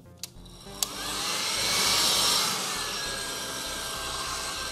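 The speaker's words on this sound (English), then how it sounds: "you could always use a hair dryer, but don't put it on hot. You'd always want to put it on cold" A couple of sharp clicks, then a hair dryer on its cold setting starts up and whooshes continuously, close and fairly loud, while cleaning the inside of a PC.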